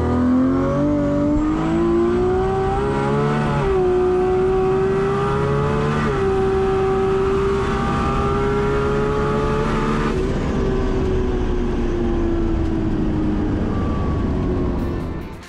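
A Nissan GT-R race car on a drag run at the 2019 GT-R Challenge in Cootamundra accelerates hard through the gears, its loud engine note climbing and shifting several times in a sustained, close roar.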